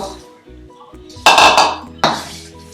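Metal clatter of a spoon scraping and knocking in a pan while chili paste with pork cracklings is stirred over low heat, two sharp loud clanks standing out over soft background sounds.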